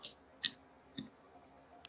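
Computer mouse clicking a button on a health card renewal website, three or four sharp, close clicks spaced apart in a quiet room, with no speech.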